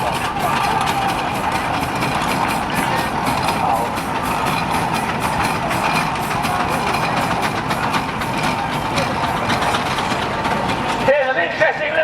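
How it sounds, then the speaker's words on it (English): A Ransomes, Sims & Jefferies steam engine running at a steam rally, a steady mechanical chugging with a busy, continuous rattle that stays loud throughout before cutting off near the end. "Interesting little engine, a Ransom Simpson Jeffries, owned by Mark Groom."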